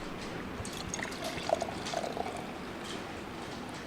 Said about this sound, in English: Pineapple mead being poured.